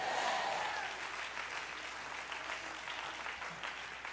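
A church congregation at an Easter Sunday service claps hands together, a dense wash of many claps that starts loud and slowly tapers, with faint voices underneath.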